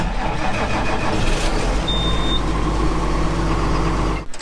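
An engine fires up and settles into a loud, steady running rumble close by, holding evenly for several seconds before a brief dip at the end.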